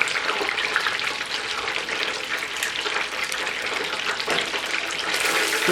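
Seafood-stuffed onion rings fry in hot oil with a dense, steady crackling sizzle that fills the whole stretch, a constant close hiss with small pops and no voices.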